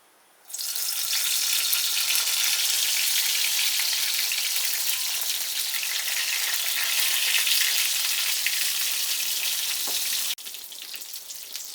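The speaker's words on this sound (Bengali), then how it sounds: "এবারে এর মধ্যে আমি বেগুনগুলো দিয়ে দেব ভেজে নেওয়ার জন্য।" Eggplant pieces drop into hot mustard oil and hiss into a loud, steady frying sizzle that runs for about ten seconds before cutting down to a quieter crackle.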